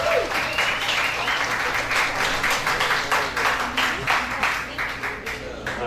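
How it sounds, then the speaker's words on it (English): Steady round of applause from a small live-music show crowd, clapping close and continuous, tapering slightly at the end with faint voices underneath. "Another round of applause."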